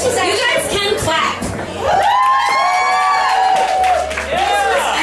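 An audience at a fashion show claps and cheers with whoops over a sustained roar, while a voice talks over the noise at the start.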